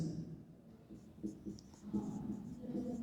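Chalk or marker scratching across a classroom board as a teacher writes chemistry notes, a soft, uneven stroking with short pauses, close and fairly faint amid a quiet room.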